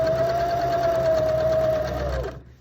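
A sewing machine stitches steadily around the edges of a napkin, a fast even whir with a constant motor hum that runs for a couple of seconds and then stops.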